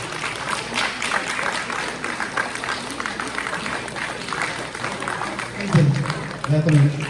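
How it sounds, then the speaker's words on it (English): An audience at a Pongal festival celebration applauds as a guest comes on stage, a sustained wash of clapping with crowd murmur and a voice rising near the end. "Can you have a big round of applause, please?"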